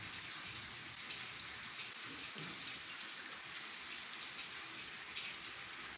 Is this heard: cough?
no